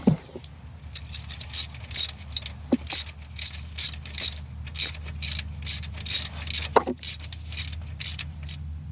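Hand ratchet working on transmission bolts during a transmission replacement on a Dodge Durango 3.6L, with repeated short clicking pawl strokes in a steady rhythm and a few sharper metallic clanks nearby.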